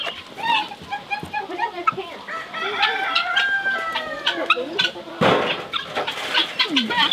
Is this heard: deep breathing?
no